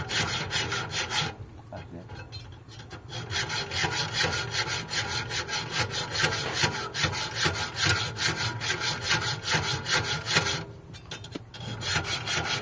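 Steady back-and-forth hacksawing through metal with a dull blade, close and continuous, with brief pauses between strokes and a constant hum in the background.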